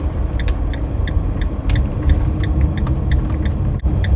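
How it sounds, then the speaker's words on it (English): A van drives along a boulevard with a steady low road rumble and engine drone from inside the cab, accompanied by a regular light ticking like a turn signal. "Van's driving well."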